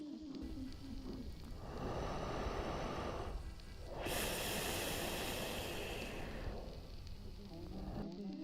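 Slow, heavy breaths rise and fall in long hissing waves over a phone call, two or three deep inhale-exhale cycles heard close and alone over a faint line hiss.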